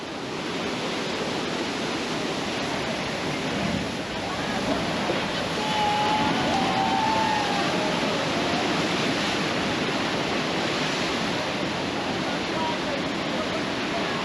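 Big ocean waves crash and roar continuously on the shore at Nusa Penida, a loud, unbroken wash of surf with wind buffeting the microphone and a voice faintly underneath.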